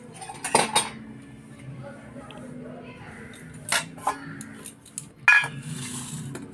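Vegetable dal and other dishes being served onto plates, with a few sharp clinks of metal utensils against dishes over a quiet room background. Voices speak at times.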